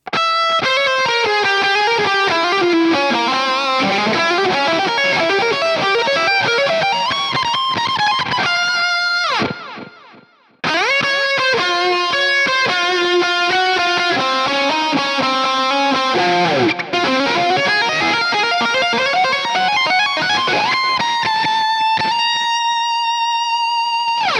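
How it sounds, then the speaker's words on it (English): High-gain electric guitar through the STL Tones Josh Middleton plugin, playing loud distorted riffs and sustained chords with a brief cut near the middle and a long ringing note at the end, and no talk. "that's basically all the high gain tones for this Josh Middleton plugin"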